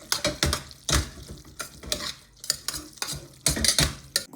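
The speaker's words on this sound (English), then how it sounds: "we toss them with our magnificent meatball sauce" Spaghetti is tossed and stirred through a thick meatball tomato sauce in a pan, making wet, squelching scrapes and soft utensil clinks in irregular bursts, close and moderately loud, with no talking.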